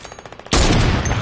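A heavy sniper rifle in a video game fires once, a sudden loud broadband blast after a quieter stretch of faint rhythmic game noise, with the roaring report sustaining to the end.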